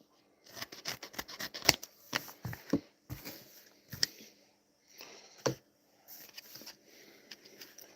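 Scissors cut into a taped envelope close up, a run of quick sharp snips with short pauses between, rustling paper in between the clipped strokes.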